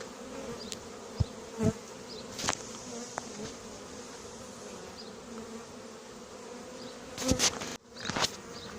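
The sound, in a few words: swarm of honeybees buzzing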